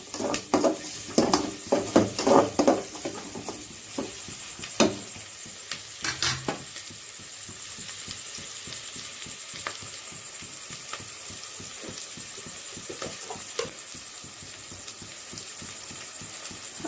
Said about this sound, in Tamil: சின்ன வெங்காயம் போடுறாங்க பூண்டும் அப்படியே போட்டிருக்காங்க அதுலேயே போட்டு நல்லா வதங்கட்டும்